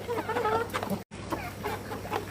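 A farm chicken clucks in short bursts close by, with a brief dropout in the middle and no talk.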